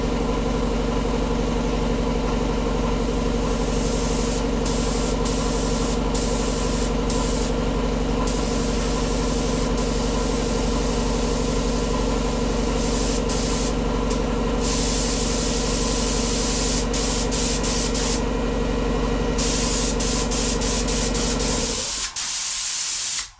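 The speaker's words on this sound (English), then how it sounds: "So these are supposed to be high volume, low pressure guns." Steady high-volume low-pressure spray gun hissing continuously while painting a 1970 Ford F350 service truck, a loud sustained airy roar with faint flicker in the treble, cutting off abruptly near the end.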